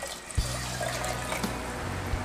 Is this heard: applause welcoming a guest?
no